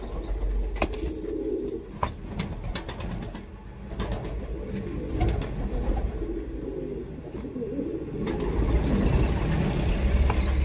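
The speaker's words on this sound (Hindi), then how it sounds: "देखो कितना खूबसूरत कबूतर है।" Pigeons coo in a loft where a fancier keeps birds with jacket-pattern plumage, soft repeated calls mixed with wing flaps and general bird chatter, steady and moderately near throughout.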